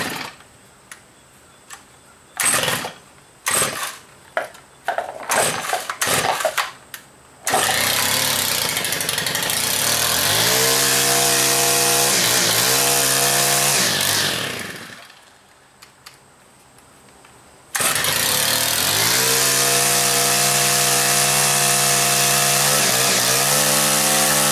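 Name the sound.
Stihl chainsaw starting and running with choke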